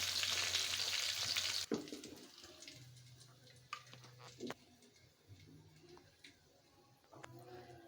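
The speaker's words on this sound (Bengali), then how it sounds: "মাছ ভাজা আর আমি আলু ভাজাটা উঠিয়ে নিই" Hilsa fish and potatoes sizzle loudly in hot oil for a moment, then the frying drops to a quieter crackle punctuated by scattered clinks and knocks of a utensil lifting pieces from the pan.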